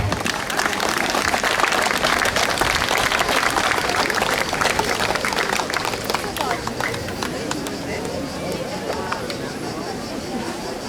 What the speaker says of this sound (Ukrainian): Зустрічаємо їх з теплими оплесками